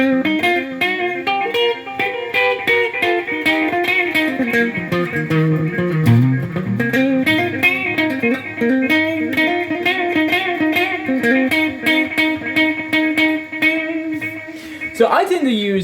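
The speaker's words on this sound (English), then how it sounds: "Let's go back and have some delay now." Electric guitar run through a delay effects pedal, a continuous melodic line with notes trailing and overlapping into repeating echoes, steady and fairly loud, with no speech over it.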